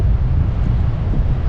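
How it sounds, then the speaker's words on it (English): Strong wind at a beach buffets the microphone in a loud, continuous low roar with no pauses, steady throughout with no other clear sounds. "It's really windy."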